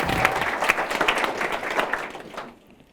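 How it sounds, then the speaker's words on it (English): Wedding guests applaud during the groom's speech at The Old Hall in Ely, a close, lively burst of clapping that fades out quickly at the end. "Pause for applause."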